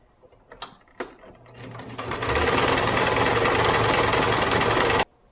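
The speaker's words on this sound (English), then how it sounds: "I'm just going to go ahead and quickly sew that together." Sewing machine stitching a folded, pinned fabric body piece for a hippo, elephant or pig, starting with a few clicks and knocks before a loud, fast continuous whirring run that stops abruptly.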